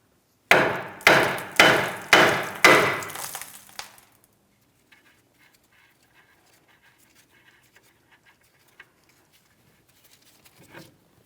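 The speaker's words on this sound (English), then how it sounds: "We're tapping directly on the knuckle here." Hammer taps on the steering knuckle of a 2007-2014 Ford Edge front suspension, about five sharp metallic strikes in steady rhythm, close and loud, followed by near silence.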